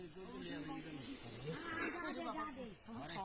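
Hissing from an old, large snake with its hood raised, a broad steady hiss running throughout alongside voices talking over it.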